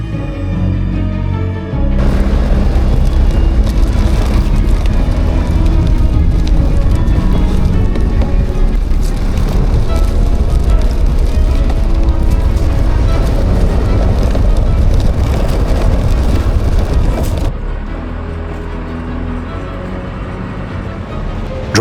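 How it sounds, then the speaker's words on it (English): A vehicle drives over rough tracks through the remote outback, ironstone-covered country, with loud, steady rumbling road and wind noise that cuts in sharply after a brief quieter start and eases slightly near the end. "Driving deeper into the remote outback"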